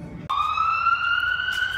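An emergency vehicle siren in Atlanta starts abruptly and holds a loud, rising wail, close by in the city.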